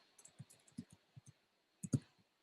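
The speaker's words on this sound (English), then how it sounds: "I do a terrible job typing and talking" Keys tapped on a computer keyboard in an irregular run of soft clicks, a handful in a cluster and then a short pause before a final burst, close and quiet with no talk.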